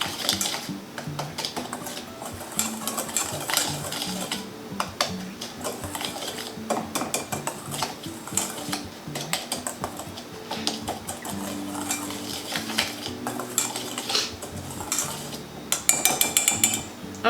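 Brownie batter made with walnut flour gets mixed in a bowl, with a spoon clinking and scraping against the sides in quick irregular strokes, close and moderately loud, with no talk.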